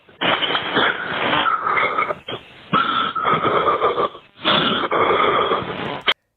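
Loud, ragged heavy breathing on a recorded emergency phone call comes in three long rasping bursts separated by short pauses, harsh and close to the line.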